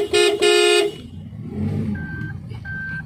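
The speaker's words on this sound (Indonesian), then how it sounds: "Klakson." A car horn blares loudly for almost a second in a doubled honk, followed by rumbling traffic and a couple of faint distant beeps.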